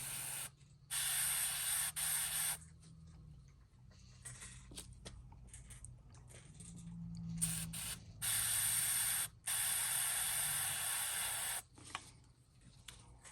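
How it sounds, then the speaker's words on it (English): Several bursts of fine, hissing airbrush spray painting a topwater fishing lure, each lasting a second or two, separated by quiet pauses and a low background hum. "Go ahead and check it, make sure it's spraying."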